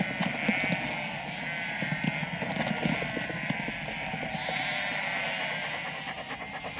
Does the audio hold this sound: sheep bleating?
yes